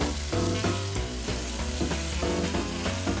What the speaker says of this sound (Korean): 자 이제 고기를 한번 구워봐야겠죠?